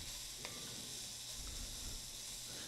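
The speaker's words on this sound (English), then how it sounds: "white wine hitting that hot surface will release any brown bits on the bottom of this" White wine hits a hot pan to deglaze it, giving a steady, close, continuous sizzle and hiss with no voices.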